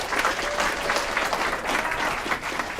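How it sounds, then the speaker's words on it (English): Applause at an Aurora city council meeting honors workforce development graduates: a dense, steady wash of many hands clapping, loud and sustained throughout. "Let's give them a round of applause for that."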